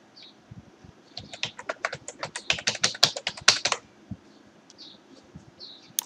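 Rapid tapping of keys on a computer keyboard while a phone number is entered, a close burst of about twenty quick clicks followed by a few scattered taps, with no voices.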